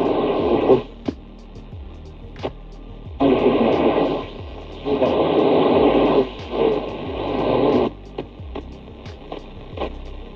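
An 80s Sharp GF-6060 boombox radio being tuned across the shortwave band: loud bursts of hissing static come and go in waves, broken by sharp clicks and crackles as the dial sweeps between stations.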